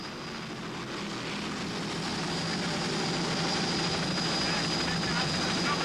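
Offshore powerboat racing engines roar in a continuous, loud, broadband drone during the 1995 Key West World Championship race at Mallory Square, with speech faintly mixed in.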